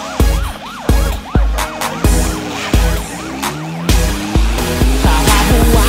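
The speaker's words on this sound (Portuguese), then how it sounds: "De repente, ouvi sirenes, era perseguição." A police siren sound effect in a funk track: wailing, swooping siren tones ride over heavy, pounding bass beats in a loud, dense mix.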